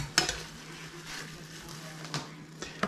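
Eggs sizzle softly in a frying pan, a faint steady hiss broken by a few sharp clicks and scrapes of utensils against the pan.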